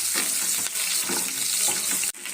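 Onions sizzle and fry in hot oil in a pan with mustard seeds and broken dried red chillies for a ridge gourd curry, a steady close crackle broken by a few stirring scrapes, with no talking.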